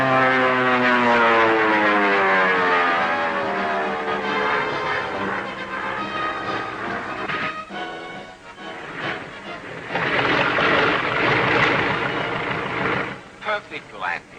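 A propeller airplane drones loudly overhead with a steady engine tone that shifts as it descends to land in a 1941 flying serial, with people speaking briefly beneath it near the end.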